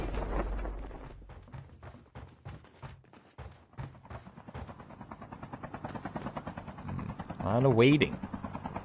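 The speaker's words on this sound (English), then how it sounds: "Helicopter being taken for Twisted." A helicopter in Call of Duty: Mobile thuds with rhythmic rotor beats that soften into a steadier whirr, under ongoing spoken commentary, ending with a brief louder swell.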